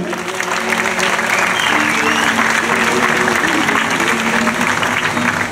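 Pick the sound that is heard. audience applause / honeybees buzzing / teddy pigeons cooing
audience applause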